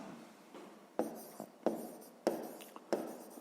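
Pen writing on paper while working a sixth-grade maths exercise, close and quiet, with a light continuous scratch and several sharper strokes in quick succession, with no voices.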